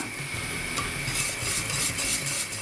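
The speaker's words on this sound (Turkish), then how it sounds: "tereyağı eriyene kadar güzelce karıştırıyoruz" A spoon scrapes steadily around a pot of milk pudding (muhallebi) with melting butter, a soft continuous stirring rub with no talk.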